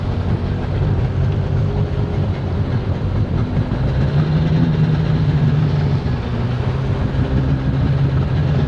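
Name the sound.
1996 Sea-Doo XP 800 engine starting and running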